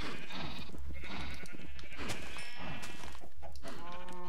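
Sheep bleat in the video game Minecraft in a modded farming world, several short, nasal bleats close by, one after another, without any talk.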